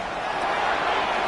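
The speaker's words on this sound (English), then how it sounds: "This crowd into it now as we get to 3rd down." Football stadium crowd roaring steadily during a tense third-down moment late in a game, a broad continuous cheer with no break across the brief moment.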